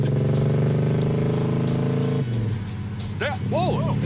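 A car engine strains under acceleration, holding a loud high-revving drone, then the pitch drops as it struggles into third gear, with a voice shouting over it near the end.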